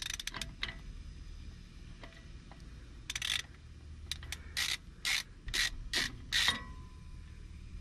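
A ratchet wrench removes a nut during a brake job on a 4wd first-generation Cummins, with scattered metallic clicks followed by several short, bright bursts of ratcheting in quick succession, fairly close in a quiet setting.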